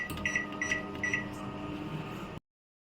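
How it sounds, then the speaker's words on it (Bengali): A microwave oven switched on to bake a homemade cake, a steady low electrical hum with a few short beeps near the start, then cutting to silence near the end. "মাইক্রোওভেনে ঢুকিয়ে দিচ্ছি, আর 2 মিনিট করে দেব।"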